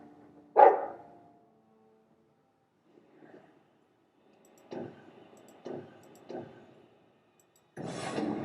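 A dog in the Dragon Age 2 video game gives one sharp bark, then after a pause several shorter, softer gruff barks in a loose series, ending in a longer rough huff, with faint clicks in between.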